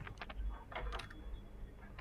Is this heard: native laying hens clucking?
no